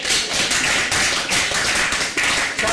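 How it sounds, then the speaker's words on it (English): A room of supporters at a local Labour Party meeting for an MEP's speech breaks into dense, continuous applause, a loud, even wash of many hands clapping at once. "Round of applause."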